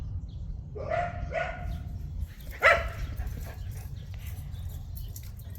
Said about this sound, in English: My neighbor's dogs are out, and my dog really likes, well, they like to play together, so that's what you're hearing.